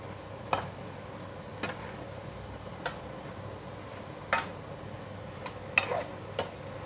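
Mee sua noodles with vegetables and cabbage being stir-fried in a pan, a soft steady sizzle with a handful of sharp scraping clicks from the utensil spaced irregularly across the clip.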